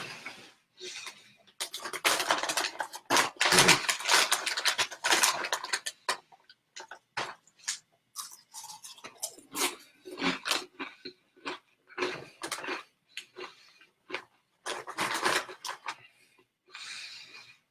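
Doritos tortilla chips crunched close up while eating, a steady run of dry, crackly bursts with short pauses between bites and no talking.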